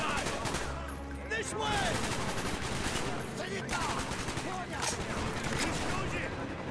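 Rapid automatic gunfire from an AK rifle fitted with a GP25 grenade launcher in the Black Ops campaign, dense sustained bursts layered with game effects while a voice speaks briefly.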